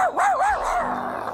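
A cartoon dog barks and yips in a short rising-falling burst, close and fairly loud, with no talking over it.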